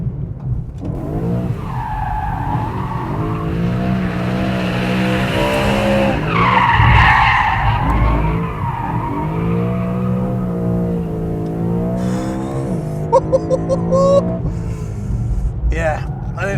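Tires of a BMW M3 GTS squeal and skid through a long oversteering slide, with a loud engine note rising and falling beneath a voice talking, ending in a few sharp chirps.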